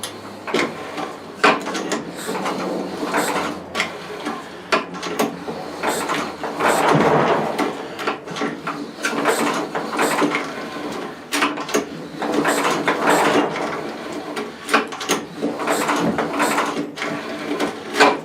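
An Ariens snow blower's starter cord is pulled slowly with the gas and ignition off, giving repeated loud, close ratcheting whirs and mechanical rattles in an uneven rhythm.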